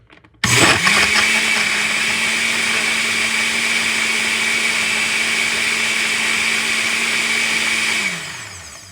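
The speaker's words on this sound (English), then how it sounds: "I got y'all right up on the blender." A kitchen blender runs loud and steady for about seven seconds, starting abruptly with a sustained motor whine, then winding down at the end, close up with no talk over it.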